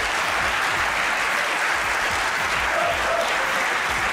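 A studio audience claps loudly and continuously at a comedy show taping, dense applause filling the room for its full length without letup.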